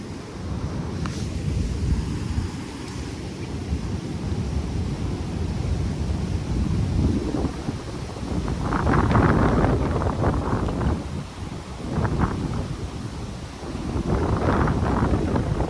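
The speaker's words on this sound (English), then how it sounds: "It's getting windy." Gusty wind buffeting outdoors at a spillway while fishing, rising and falling in strong surges against a steady rushing background, with no talking.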